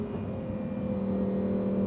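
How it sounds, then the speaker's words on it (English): A car drives along winding roads with a steady engine hum and a smooth whir from the tires on the road surface, heard continuously from inside the car with no talking. "I'm just silent and I just listen to this car just go"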